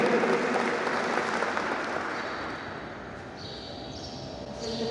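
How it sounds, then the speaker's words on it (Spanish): Audience at an electoral tribunal training and swearing-in ceremony applauding to welcome a speaker, a dense wash of clapping that eases slightly midway and swells again at the end, with faint tonal sounds over it. "Vamos a recibirla con fuertes aplausos"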